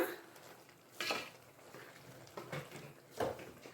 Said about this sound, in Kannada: ಇವಾಗ ನೋಡ್ಬೋದು ಚೆನ್ನಾಗಿ ಮಿಕ್ಸ್ ಮಾಡ್ಕೊಂಬಿಡೋಣ